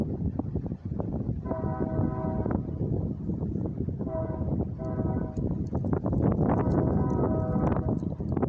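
An eastbound mixed freight and steel train passes on a windy afternoon, its rumble steady under wind noise, with a horn sounding in several long blasts.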